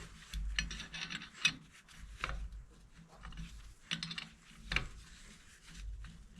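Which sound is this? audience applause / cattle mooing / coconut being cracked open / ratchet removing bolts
ratchet removing bolts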